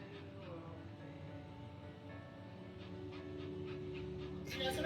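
Dog panting in the video game That Dragon, Cancer, a soft steady breathy rhythm mixed with ambient game music and a low hum, building slightly toward the end.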